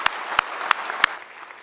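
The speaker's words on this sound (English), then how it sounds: "let's just take a moment to give them a round of applause as well" A few isolated hand claps at an honors ceremony, four sharp, evenly spaced slaps close by over faint room noise, then fading quiet rather than a full round of applause.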